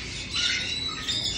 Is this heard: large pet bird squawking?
yes